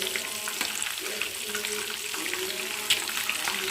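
Egg kofta balls frying in oil, a continuous close hiss and crackle with a few sharper pops and faint scraping as pieces are turned, while soft chanting or voices murmur in the background.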